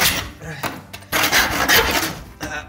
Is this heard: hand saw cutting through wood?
yes